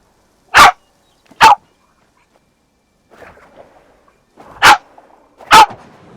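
A puppy in a farming video game lets out four sharp, loud single barks, two close together early and two more later, with quiet fluttery noise between them and no talk.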